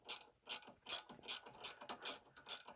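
A spanner ratchets a stiff nylock nut onto a car's sway bar link, giving about eight close, sharp clicking bursts in a steady back-and-forth rhythm with no talking.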